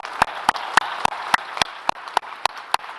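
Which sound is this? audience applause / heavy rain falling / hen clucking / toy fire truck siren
audience applause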